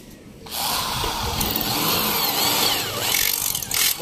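A power grinder sharpening a blade, a continuous high whine and grinding hiss that starts abruptly and runs loud and close, wavering in pitch as the metal is pressed.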